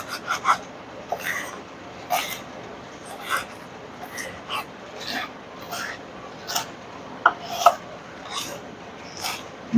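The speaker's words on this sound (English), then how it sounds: "all of the herbs rough, chop them" Fresh herbs are roughly chopped with a knife on a cutting board for a summer salad, a series of scattered scraping chops spaced a second or so apart, with quiet speech in the background.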